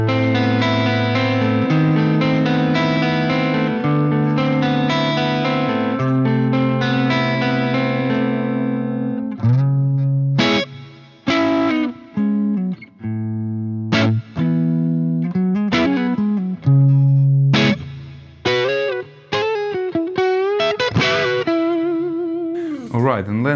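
Clean electric guitar in standard E tuning, played alone: a sustained chord passage for about ten seconds, then short, choppy plucked notes and chords separated by brief gaps, close and fairly loud.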